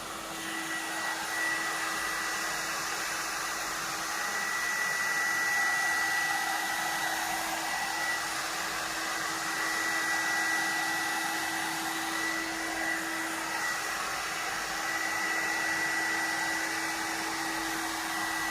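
A hair dryer runs continuously and loudly nearby, a steady whooshing whir with a constant tonal hum, with no one talking over it.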